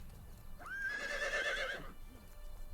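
A horse whinnies loudly and close in the Medieval Kingdoms 1212 AD video game, a single rising-then-falling neigh from a bodyguard mount in chain barding, with faint hoof sounds around it.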